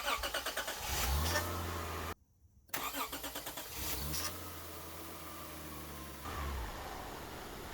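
A 2003–2005 Honda Pilot V6 cranks and fires up after an alternator replacement, with repeated starter whirring, a brief silent gap, then steady close idle running.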